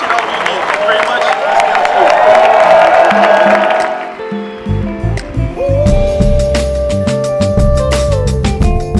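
A rally crowd claps and cheers loudly for about four seconds, then the applause gives way to music with a strong bass beat, with scattered claps and voices still mixed in.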